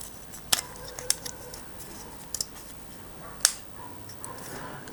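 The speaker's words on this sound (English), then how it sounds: "Clicks in both sides, nice and solid." Sharp small plastic clicks of a part on a mill lighting upgrade snapping into place on both sides: a handful of crisp, close snaps spaced irregularly over a quiet background.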